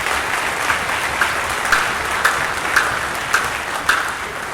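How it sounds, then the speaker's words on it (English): Audience applause for the directors at a winter concert, a dense even wash of clapping with faint rhythmic accents recurring about every half second, sustained throughout. "Can I just give a round of applause for our three directors here?"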